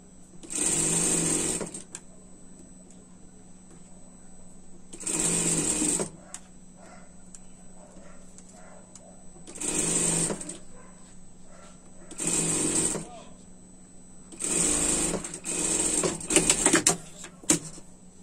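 Sewing machine stitching a seam on a winter pet dress, running in five separate bursts of steady mechanical whirring, each about one to two seconds long, with quiet pauses between and a final burst broken into short stops.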